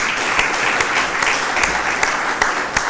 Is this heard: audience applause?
yes